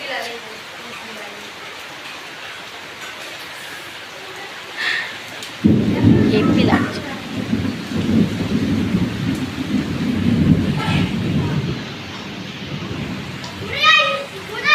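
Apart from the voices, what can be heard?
thunder rumbling during rain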